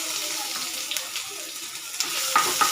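Ginger garlic paste and garam masala frying in hot oil for an egg and gongura curry, a steady close sizzle with a few soft stirring clicks and scrapes, no talking.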